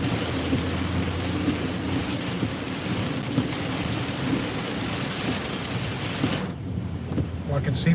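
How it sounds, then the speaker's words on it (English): Heavy rain pours steadily on the Route 128/I-95 highway in a dense, continuous roar with occasional low rumbles of thunder, then briefly thins toward the end. "I wouldn't be surprised if there's a good 2 inches of rain coming down here"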